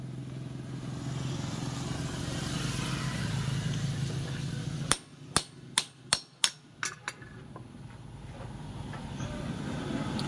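Hammering on an engine part of a Rusi 150 motorcycle: about seven sharp metallic blows land in a quick, slightly uneven series midway, set against a steady low hum before and after.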